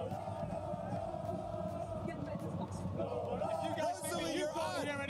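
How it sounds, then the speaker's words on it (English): A loud, dense crowd of esports fans roars and cheers without a break at an OpTic Texas Call of Duty League watch party. Shouts and whoops rise above the steady din, growing more intense toward the end. "Try stand right in front of a crowd like this."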